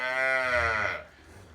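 A single loud, drawn-out moo from a dairy cow, close by, fading into quiet farmyard background.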